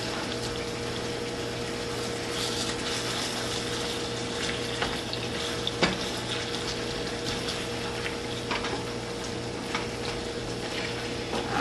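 Ground meat for Philly cheesesteaks browning in a pan, giving a steady, close sizzle and crackle with a faint running hum beneath and a few sharper pops, continuous throughout.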